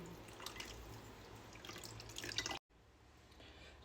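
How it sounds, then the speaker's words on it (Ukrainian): A small amount of water trickles and drips over 25 grams of gelatin, a faint, close liquid patter that runs steadily before a brief cut and quieter continuation. "Дуже трошки водичкою заливаємо."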